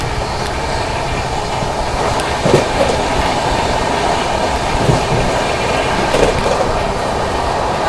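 An express train, the 20802 New Delhi–Islampur Magadh Express, rolls through Shikohabad Junction without stopping, heard from on board as a steady loud rumble with faint rhythmic wheel clatter throughout.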